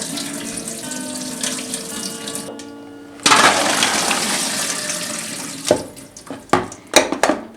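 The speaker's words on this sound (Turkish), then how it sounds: "Kestanemizi yıkadık." Chestnuts are washed under a running kitchen tap: a steady rush of water that swells louder midway, then breaks into splashes and clatters as the nuts are moved about, with no talking.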